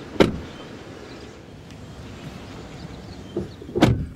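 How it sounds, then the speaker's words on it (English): Two solid thuds as the doors of a 2014 Mercedes-Benz E63 AMG S 4Matic swing shut, one near the start and another near the end, with a quiet pause between. "Doors close with a nice solid reassuring thud."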